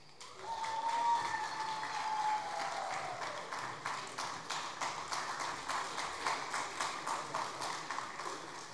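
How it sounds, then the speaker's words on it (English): Audience applause for young award winners at a school annual sports awards ceremony, a steady moderate clapping that swells early and continues evenly throughout, with faint tonal ringing in the background. "A big round of applause for these young gentlemen."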